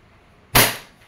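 WE Glock 34 Gen 4 airsoft pistol fires a single sharp, loud crack that decays quickly, close by, with quiet around it.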